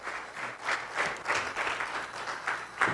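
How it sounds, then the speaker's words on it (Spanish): A church congregation applauds during a Spanish-language worship service, a steady wash of many hands clapping at moderate volume that swells and dips in uneven waves, with no voices standing out. "Den un aplauso al Señor"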